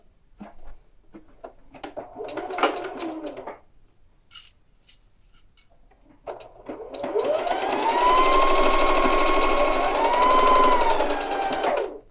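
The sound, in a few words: sewing machine stitching jacket seam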